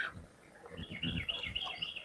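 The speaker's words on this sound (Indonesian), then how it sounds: "Bisa didengar ya suara kicauan burungnya." Birds chirping outdoors beside fish ponds on a cool, scenic bike ride; bright, fluttering tweets come in quick overlapping bursts, moderately close, over low rumbling wind or movement noise.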